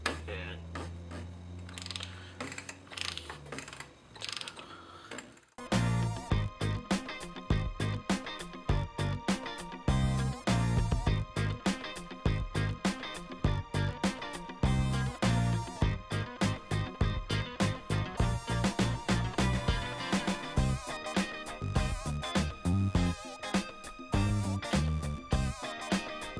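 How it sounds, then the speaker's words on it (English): Rapid ratcheting clicks from a hand wrench working the oil filter on a Porsche 911 Turbo (996), dense and close for most of the stretch after a quieter opening, with no talk over it. "get a wrench"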